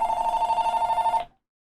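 Telephone ringing nearby, a rapid trilling bell-like ring that pulses steadily for about a second and then cuts off abruptly into silence, heard alone with no talking.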